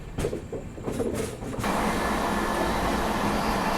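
A long-distance passenger train pulls out of a railway station on the Mysuru to Varanasi route; a few seconds of mixed clatter give way to a steady, loud, continuous broadband rumble of rolling cars.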